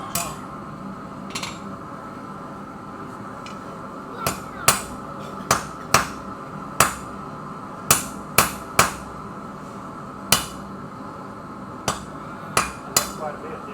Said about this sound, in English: If you use light blows with a hammer, you can kind of bring it more in line.